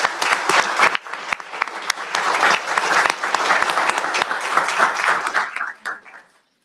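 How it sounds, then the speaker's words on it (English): An audience at a school district event breaks into loud, steady applause, dense clapping that holds for about six seconds and then fades out. "So please give them a round of applause."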